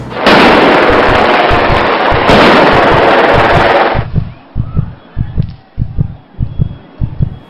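Dense, loud bursts of gunfire and blasts fill the first seconds, then give way to a steady series of heavy, rhythmic booming shots.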